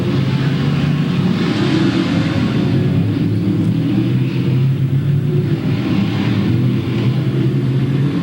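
Outlaw figure 8 race cars roar around Louisville Speedway during a 1997 race night, a loud, continuous engine rumble with revving that rises and falls over the whole stretch.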